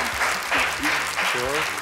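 Studio audience applause on a Russian TV quiz show, a steady wash of clapping filling the room, with a host's voice and music cues running over it throughout.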